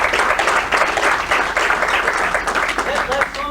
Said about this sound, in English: So I'd like to have a round of applause.